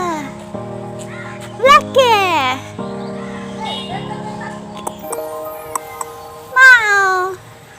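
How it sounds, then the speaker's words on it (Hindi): A cat meows several times, high and close, in short rising calls spaced apart, with a person speaking softly in between. "देखो मेरी बिल्ली कहाँ पे स्वागत करने आई है"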